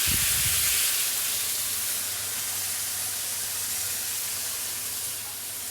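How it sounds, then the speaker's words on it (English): Shellfish and seafood stock hits a hot pan in a restaurant kitchen and erupts in a loud, broad steaming hiss that starts strong and then settles into a steady sizzle. "And then we hit it with a little bit of just shellfish and seafood stock."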